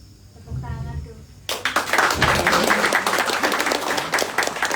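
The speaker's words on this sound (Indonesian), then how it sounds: "Tepuk tangan dong." An audience at an Indonesian evening talk event breaks into applause. Dense, loud clapping swells in suddenly after a brief quiet stretch of voices and then holds steady to the end.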